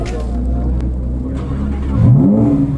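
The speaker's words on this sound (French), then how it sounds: "Donc là, les gars, on va vous faire un petit démarrage." A sports car engine idles with a deep, steady rumble, then revs up sharply near the end, pitch climbing in a loud close-up blip, with a voice speaking briefly over the engine.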